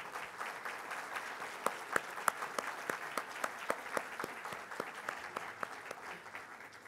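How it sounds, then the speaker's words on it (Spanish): At the EXCON 2019 opening ceremony, an audience claps for a birthday, a steady stream of many hands with a few sharper, louder claps standing out close by. "quiero pedirles a todos un fuerte aplauso para Lucho"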